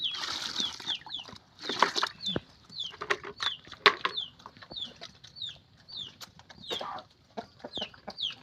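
Free-ranging chickens foraging across a harvested rice field, clucking and calling in short repeated bursts with occasional wing flaps, fairly close and alone without talk.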